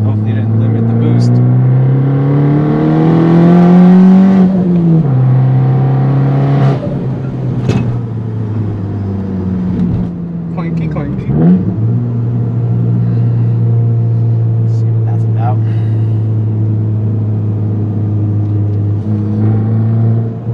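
A Fiat 500 Abarth with a GT2860 big turbo, untuned, pulls hard at full throttle: a loud, steady engine drone rising in pitch through the gears from inside the car, with brief dips at the shifts.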